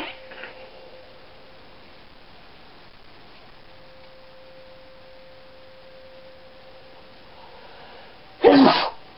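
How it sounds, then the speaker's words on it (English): A single sharp, loud sneeze bursts out near the end after a long stretch of quiet hum, with no talking. "It's good to get a good sneeze off your walnut in the middle of a fight."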